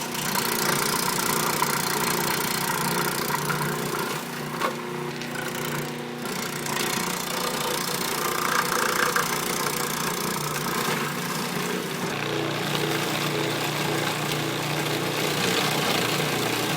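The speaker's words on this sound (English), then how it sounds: "Then I end up using the slicing blade on the food processor." A food processor whirs steadily for several seconds as its slicing blade cuts through a large batch of rhubarb stalks, a loud continuous motor drone with rough chopping texture and brief dips as pieces are fed in.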